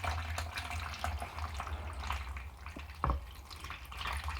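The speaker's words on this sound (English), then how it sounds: "I'm filling it from a kettle, but this kettle has a water filter built in." Filtered water poured from a kettle into a small tabletop fountain, a continuous close trickle and gurgle with scattered splashy drips over a low steady hum.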